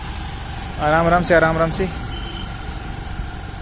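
A scooter engine starts in a brief burst and then settles into a steady, low idle close by, with someone speaking briefly over it.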